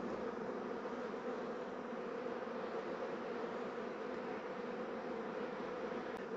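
Honeybees buzzing in a dense, steady drone at a hollow log hive, a continuous close hum that holds even throughout without pauses.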